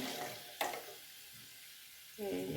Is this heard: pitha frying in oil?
yes